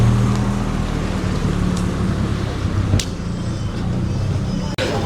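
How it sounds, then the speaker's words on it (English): A group of Renault Clio hatchbacks rolls past at an outdoor car meet, a steady close engine drone with a few brief knocks and clicks over the top. "Squad of Clios just rolling through."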